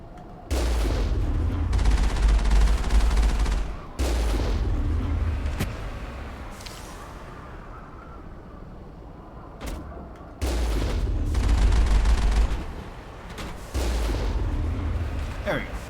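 Sniper gunfire in the video game Mass Effect, heavy booming shots in long loud bursts with echoing tails, separated by quieter stretches where a voice talks.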